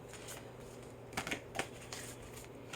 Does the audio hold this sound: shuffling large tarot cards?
yes